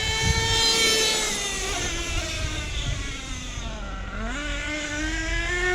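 The nitro engine of a Losi 8T RC buggy runs during break-in at quarter throttle, a close, loud, buzzing whine whose pitch wavers and dips before climbing again.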